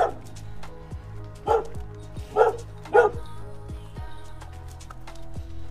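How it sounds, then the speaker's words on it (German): Several dogs at an animal shelter in Alanya bark and yip in short bursts, some near and some farther off, with a few whimpers between the barks. "Da sind jetzt ein paar Hunde drin."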